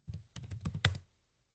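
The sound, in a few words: typing su root command on computer keyboard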